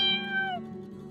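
A cat gives a single short meow, close and clear, with a drawn-out tone that slides downward before fading into quiet background.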